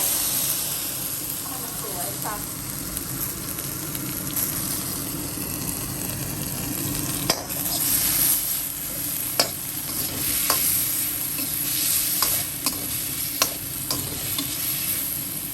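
Beans stir-fried with red chili and shrimp paste over medium heat: a steady close sizzle with scraping stirs and occasional sharp clacks of the spatula, while someone talks over it.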